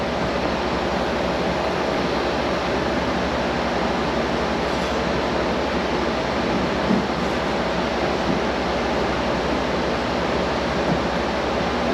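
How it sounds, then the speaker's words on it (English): A diesel-cleaning centrifuge runs steadily with a dense, even rushing whir and a low hum, loud and unbroken throughout with no voices. "now I can fire the centrifuge back up and let this thing eat for a couple days"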